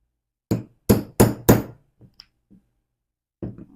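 A small hole punch is struck with a hammer through crochet material, giving four loud, sharp blows in quick succession, then a few faint taps and one more knock after a pause.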